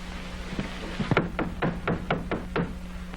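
Knocking on a door in a 1937 radio mystery drama: a single tap, then a rapid series of about seven sharp, evenly spaced knocks, close and distinct over a low steady hum.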